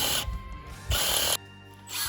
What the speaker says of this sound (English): So you take your socket, you put it on your drill like this